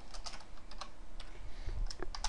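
Rapid keystrokes on a computer keyboard, irregular clicks in quick bursts at close range, with a low background hum and no voices.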